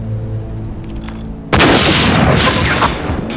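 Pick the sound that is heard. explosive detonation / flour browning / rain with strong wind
explosive detonation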